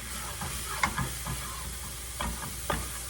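Minced garlic, about four and a half teaspoons, sizzles softly in a pan as it is scraped and stirred, with a few brief louder scrapes and pops standing out over the steady frying hiss; no one speaks.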